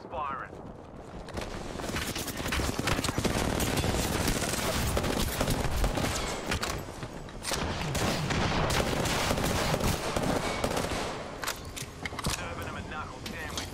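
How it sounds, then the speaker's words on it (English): A knuckle cluster weapon firing in a casual video game match: a dense, continuous barrage of rapid explosive bursts and crackling impacts, loud and close, with a voice talking over it throughout. "Stand back, knuckle cluster's firing."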